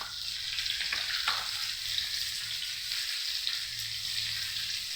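Drumsticks and potatoes frying in a fenugreek tempering, a close, steady sizzle with a few soft stirring scrapes and knocks early on, no voices.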